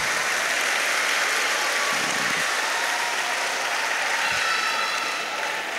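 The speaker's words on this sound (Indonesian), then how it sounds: "Tepuk tangan buat Pesantren Ulumuddin ya." Steady applause from an audience at a Pesantren Ulumuddin gathering, a dense continuous clatter of clapping hands filling the whole stretch at even loudness, with no voices over it.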